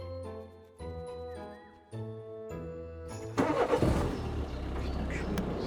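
A Dacia Logan's engine cranks and fires, with an electronic chime sounding beforehand, then settles into a loud, rough idle close by.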